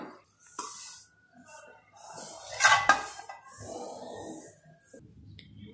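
Dry-roasted semolina is scraped from a pan onto a plate with a metal spoon, giving quiet clinks and gritty scraping strokes, with a sharper metallic clatter in the middle, all close and fairly soft.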